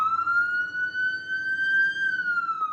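An RCMP police siren in its slow wail pattern, its tone rising and falling smoothly, loud and close with no talking.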